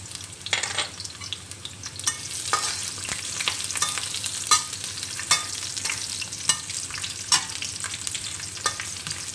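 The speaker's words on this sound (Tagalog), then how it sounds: "Gisa lang po natin hanggang mag-brown yung sibuyas at bawang" Garlic and onion sautéing in a pan for a Filipino malunggay pod dish, a steady close frying sizzle broken by sharp utensil scrapes and stirring clicks every second or so, with no talking.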